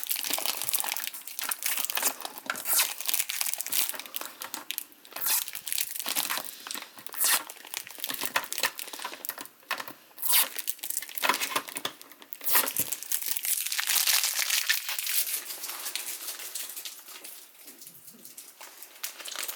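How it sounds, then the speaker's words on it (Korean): Plastic vinyl wrap is torn and peeled off a Joytron E1 all-in-one arcade stick box, a steady stream of close, bright crinkling and ripping that runs without a break and with no voices. "이런 비닐 뜯는 맛이 좋죠"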